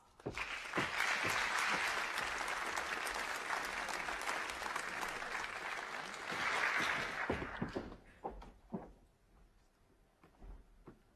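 Conference audience at the Oslo Urban Arena applauding to welcome a keynote speaker, a full, steady round of clapping that swells and then trails off into scattered claps and room noise.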